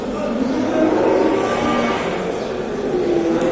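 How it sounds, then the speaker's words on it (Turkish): Cattle at a busy Sakarya livestock market, a cow and a heifer among them, low mooing over a dense crowd murmur and constant background noise of the indoor-outdoor market. "Biri inek biri düve arkadaşlar."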